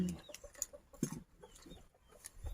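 Bantam chickens cluck in an open field with short, scattered, fairly faint calls and some outdoor background noise.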